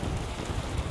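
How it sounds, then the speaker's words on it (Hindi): Dense, steady tropical rain in Kuala Lumpur pours down close by, a continuous hiss of drops hammering a surface with no pauses. "बारिश बड़ी तेज है"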